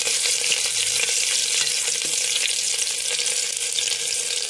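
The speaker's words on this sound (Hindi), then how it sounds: "प्याज मैंने लिया है, लाइट ब्राउन हो जाए मेरी प्याज।" Garlic cloves and onion frying in hot oil in a pan for vegetable dalia give a loud, steady, dense sizzle with crackling pops and the occasional stir, close up and continuous.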